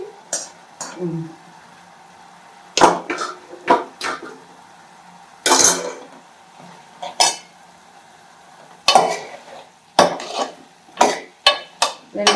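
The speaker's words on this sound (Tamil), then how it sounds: "வெண்டைக்காய் முருங்கைக்காய் தக்காளி எல்லாம் வதங்கிட்டோம்" Okra, drumstick and tomato sautéed in a pan, with a spoon scraping and knocking against the metal in irregular bursts of clatter between quiet gaps.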